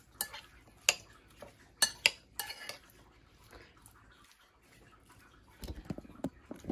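A chopped tomato mixture for bruschetta is stirred gently in a bowl, giving sparse, sharp clinks of utensil on bowl followed by softer, moist scraping and a low thump near the end.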